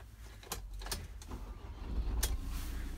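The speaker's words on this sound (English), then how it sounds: "you can hear just about that it starts straight up. It's got that lovely, quiet engine." A 2016 Ford Transit campervan is started with the key: a few mechanical clicks and clunks, then a quiet, low engine hum that rises and settles into a soft, steady idle nearby.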